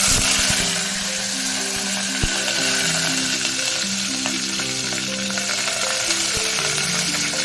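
Loud, continuous crackling sizzle of mustard seeds and urad dal lentils frying in hot oil, close up, with a faint humming tone underneath and occasional pops.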